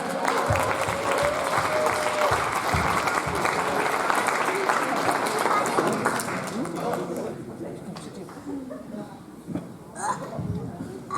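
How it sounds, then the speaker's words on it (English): An audience applauds performers on stage, one of them making a first stage appearance; dense clapping fills the first several seconds, then thins and fades while voices murmur in the room. "So let's just give a big round of applause for both of them."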